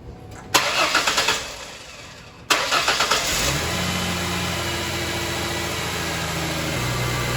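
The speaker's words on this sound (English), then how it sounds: "Now let's start our car up and monitor the battery voltage." A Ford Mustang's engine cranks twice with rapid starter whirring, catches on the second try with a short rev, then settles into a steady, even idle up close.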